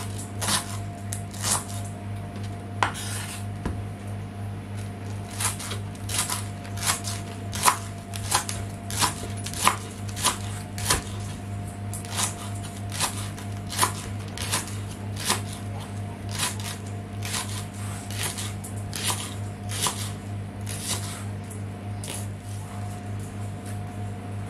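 A knife chops leeks on a cutting board in quick, regular crisp strikes, dozens of close, sharp cuts repeating over a steady low background hum.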